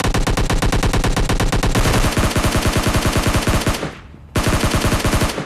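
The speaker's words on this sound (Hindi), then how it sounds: "जब वो गन शॉट की आवाज आ रही है ना, अब ये ऑटो में चल रही है।" Rapid automatic gunfire in a shooter video game, a loud continuous stream of evenly spaced shots that briefly drops away before another burst, with no talking over it.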